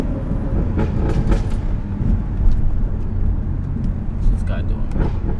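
A BMW 440i drives along, a steady close rumble of road and engine noise from inside the cabin with a few faint clicks and passing sounds over it.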